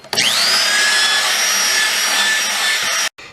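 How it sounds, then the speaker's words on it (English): A power drill with an attachment rounds out a hole in the wood of a cigar box guitar, giving one steady high whine and grind that runs for about three seconds and then cuts off abruptly. "I'm going to take a drill attachment that I have and just work these nice and round"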